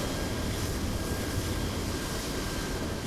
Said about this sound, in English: There's a plane powering up somewhere.